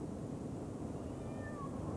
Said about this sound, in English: I think the cat's very happy.